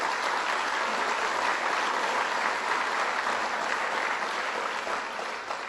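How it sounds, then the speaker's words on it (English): A crowd at a community college gathering gives the lieutenant governor a round of applause, broad sustained clapping that holds steady and fades slightly at the close. "Give him another round of applause."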